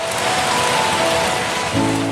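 Steady rain falls from the sky in an even, continuous hiss of drops on surfaces, close and moderately loud, with no voices.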